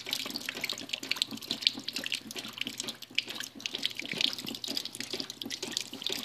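Water splashes and trickles out of a removable appliance part being shaken after a vinegar clean, a close, irregular run of drips and small pours with no talking.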